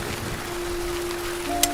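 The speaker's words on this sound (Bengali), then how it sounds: "প্রবল হাওয়া, সঙ্গে তুমুল বৃষ্টি আর বজ্রপাত।" Heavy rain pours down during a storm with strong wind and lightning, a dense, steady hiss with a faint tonal hum running underneath.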